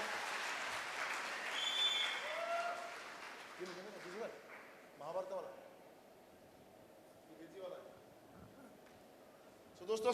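Applause for women participants at a CA achievers training event, a burst of clapping at the start that fades within a few seconds, followed by scattered speech-like sounds and quieter room noise.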